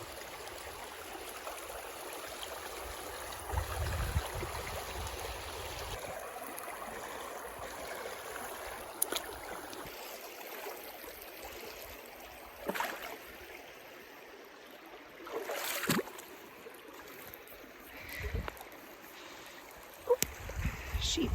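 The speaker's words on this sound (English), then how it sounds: "I sat down by the river to enjoy the peaceful sounds." Steady rushing of flowing river water outdoors in Scotland, a constant broad wash with a few soft knocks and bumps near the end.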